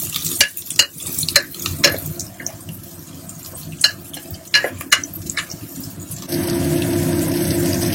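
Ginger, garlic and tomato masala frying in a pan for biryani, heard as soft sizzling broken by sharp spoon scrapes and clanks. Near the end, running tap water takes over.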